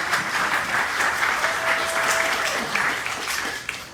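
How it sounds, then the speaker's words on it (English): A crowd gives steady, dense applause for the entertainment panelists at a Disney Wish cruise ship panel. The clapping holds level for several seconds and then tapers slightly. "How about a big round of applause for all of our panelists today?"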